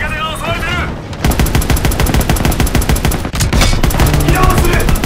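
Rapid automatic gunfire rattles in a World War II battle in the video game Call of Duty WWII, with sustained loud bursts after a brief opening of voices and a short pause midway.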